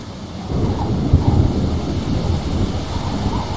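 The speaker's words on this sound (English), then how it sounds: "Thunderstorms make me nervous." A thunderstorm rumbles in the Splinter Cell Chaos Theory lighthouse level, a low rolling thunder swell with wind and rain noise, steady and moderately loud throughout, with no voices.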